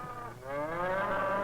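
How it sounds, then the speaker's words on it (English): Shorthorn and Hereford beef cattle on the grassy pampa give a single long, low moo that swells and holds for over a second, fairly close and alone. "shorthorns and Herefords that are grazed and fattened on the alfalfa and grasses of the pampa"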